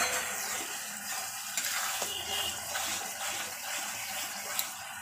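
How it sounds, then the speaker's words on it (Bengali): Spice masala for duck meat curry sizzles and hisses steadily as it is stir-fried in a pan, close and fairly quiet, with faint scraping of stirring throughout. "ভালো করে মশলাটা কষিয়ে নিতে হবে।"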